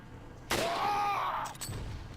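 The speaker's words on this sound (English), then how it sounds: "I'm not gonna be able to make that shot with a pistol" A pistol shot in the Resident Evil 4 video game: one sharp, loud crack followed by a ringing metallic tail lasting about a second.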